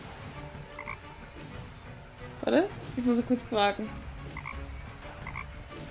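Cartoonish frog croaks from the video game Deponia 2, a few loud warbling ribbits in quick succession around the middle, with people chatting over the game audio before and after.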